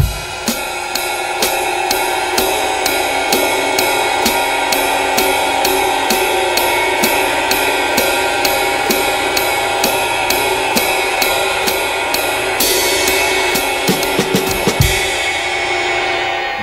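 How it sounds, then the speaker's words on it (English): A drummer keeps steady time on a cymbal with a stick, evenly spaced bright strokes ringing over a sustained shimmer, close and loud, with a few heavier accents near the end. "play with intensity. You get out of the cymbal what you put into it."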